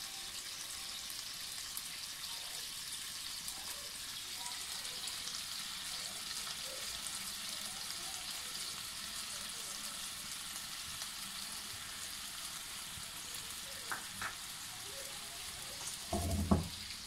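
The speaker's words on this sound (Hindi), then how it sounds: "मीडियम आंच पे हम इसे अच्छे से बनाएंगे ताकि ये एक यकजान हो जाए।" Honey, vinegar and sauce simmer on medium heat in a pan for sweet teriyaki chicken, a faint, steady bubbling hiss with a few soft clinks and a louder scrape at the end.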